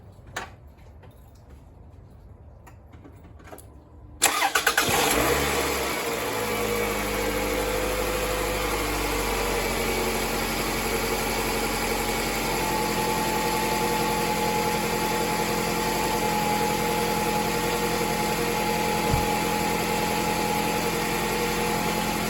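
A 2001-2005 Toyota RAV4 engine cranks and catches after a water pump replacement, then settles into a steady, loud, close idle with a faint ticking and no rattle, following a quiet stretch of small clicks.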